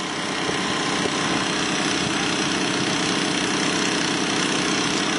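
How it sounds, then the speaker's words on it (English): Gasoline water pump engine running steadily at a culvert replacement cofferdam, a loud continuous droning hum with constant level throughout, no voices. "Whoops, I just heard one pump die. Ran out of gas."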